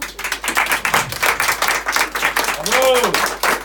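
A studio audience on a game show breaks into dense, sustained clapping for a contestant, loud and continuous throughout, with a voice and some cheering mixed in over the applause.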